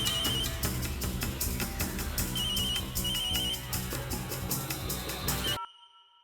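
A telephone rings in a repeating electronic pattern, loud and close, then cuts off abruptly near the end.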